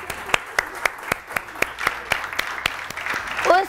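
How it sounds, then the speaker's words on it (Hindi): Studio audience on a morning television show claps in a sparse, fairly regular rhythm of distinct individual claps over a low background murmur, with a voice starting up briefly at the end. "बिल्किस आपा के लिए बहुत सारी तालियां।"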